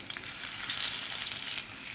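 Semolina veg cutlets shallow-fry in hot oil with a steady, close sizzle and crackle, plus a few soft scraping touches as they are turned over.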